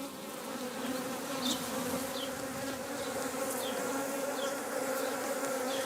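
A steady, dense buzzing of many honeybees around their hives fills the air, with individual insects zipping past now and then, continuous and fairly close.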